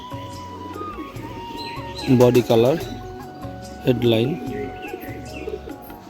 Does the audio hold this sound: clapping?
no